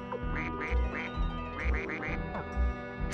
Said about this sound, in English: Oh yeah, was there a duck error sound?